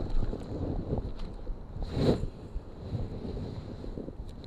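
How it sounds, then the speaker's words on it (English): Gusty wind rushes over the microphone outdoors on the water, a low uneven rumble with one stronger gust partway through. "There still is some wind that's kind of whipping a bunch of different directions"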